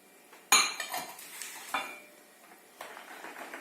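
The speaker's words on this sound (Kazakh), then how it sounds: "Бәрін араластырамыз" A spoon stirs bun dough ingredients with fresh yeast in a bowl, giving one sharp clink followed by scattered scraping and tapping against the bowl, close up, with no talking.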